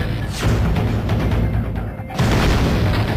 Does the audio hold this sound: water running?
no